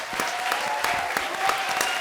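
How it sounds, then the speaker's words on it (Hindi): A studio audience at a Hindi TV comedy show applauds special guests Sunny Leone and Sachin Joshi, a brisk burst of distinct, close claps in a quick irregular rhythm over two seconds, with little talk. "एक बार हमारे आज के स्पेशल गेस्ट सनी लियोन और सचिन जोशी के लिए जोरदार तालियां हो जाएं"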